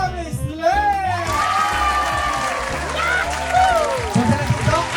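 A crowd cheers, shouts and whoops while applauding award winners at a prize announcement, lively and continuous throughout, with voices and an announcer audible over it.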